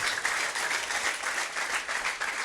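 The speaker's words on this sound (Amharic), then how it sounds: "አጨብጭቡ ለኢየሱስ።" A church congregation at a prophetic healing service claps together, a brief dense burst of applause with a loosely rhythmic beat, steady and fairly close.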